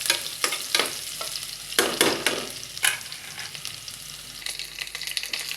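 Crushed garlic cloves frying in mustard oil, a steady close crackle and sizzle punctuated by several sharp scraping stirs of a spatula against the pan; no voices.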